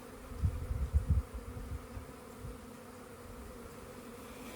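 Honeybees buzz around a transparent beehive in a steady, close, low drone, with a louder flurry of buzzing near the start that settles into a softer continuous hum.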